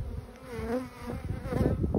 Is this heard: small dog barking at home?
no